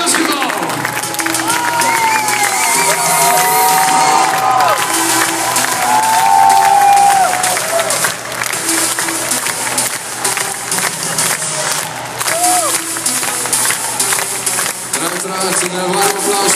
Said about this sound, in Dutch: Een warm applaus voor de twee beide teams.